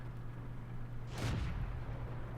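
A single T28 tank gun shot in the game World of Tanks, a sharp burst that decays over about half a second, heard alone against a steady low engine hum.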